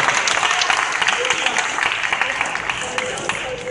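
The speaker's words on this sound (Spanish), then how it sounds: "Vamos a dar un aplauso" Applause from a church congregation at a pastor's service, a dense wash of clapping filling the space at a steady level for a few seconds, with some talk mixed in.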